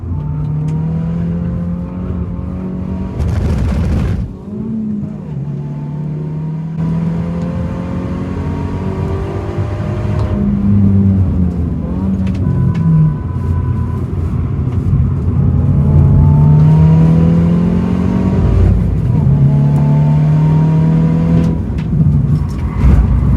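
A Hyundai i20N fleet car with worn front tyres is driven hard on a track, its engine repeatedly revving up and dropping through gear changes, loud and close throughout.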